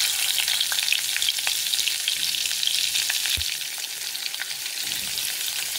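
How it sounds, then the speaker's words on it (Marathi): Butter and cumin seeds sizzling in hot oil in a kadhai wok, a steady close hiss with faint pops and one soft knock, no talking. "आपण तेल तापत ठेवलेलं आहे कढईमध्ये. आता त्याच्यामध्ये आपण थोडंसं बटर टाकणार आहे."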